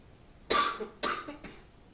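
Three harsh coughs, a strong one followed by two weaker bursts, close and loud, with short quiet gaps between them.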